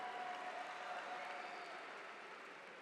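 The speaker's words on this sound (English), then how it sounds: "Let's give another round of applause for this amazing young crabber." Faint, steady applause from a high school graduation crowd honoring an outstanding senior, an even wash of distant clapping with no distinct voices.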